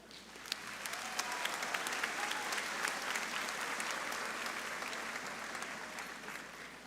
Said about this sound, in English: A round of applause for our fantastic class of 2026.